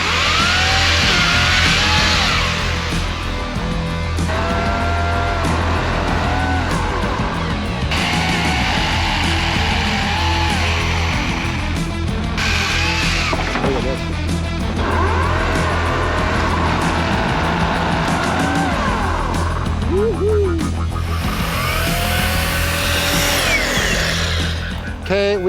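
An EGO Power+ multi-head power tool runs at speed 1, a loud, steady motor whine holding for the full stretch, with rattling and shifts in pitch as it works and a brief rise in intensity near the end.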